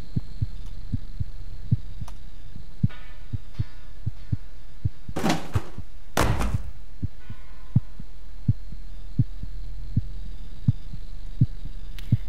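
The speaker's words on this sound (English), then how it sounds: "Fucking heartbeat" Steady heartbeat thumps from The Cat Lady video game, a regular low pulse repeating throughout with a constant hum beneath and a couple of brief louder bursts midway.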